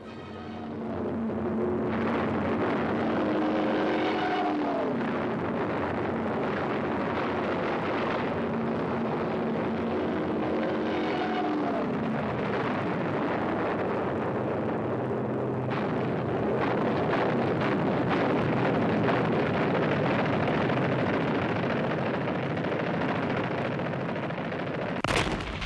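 An airfield in the Tunisian campaign under Luftwaffe air attack, with continuous loud rumbling, gunfire and explosions filling the whole stretch and a drone of aircraft beneath.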